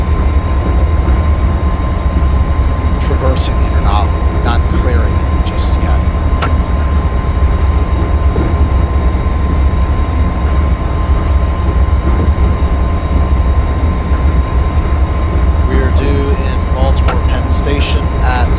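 MARC Penn Line commuter train rolling through an interlocking at about 30 mph between Washington DC and Baltimore, a steady loud rumble with wheel and rail noise throughout, someone talking over it.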